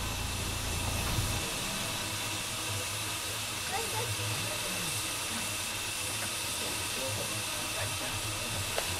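A steady, loud hiss of steam from a steam locomotive at a station runs throughout, with a low rumble and faint background clatter underneath.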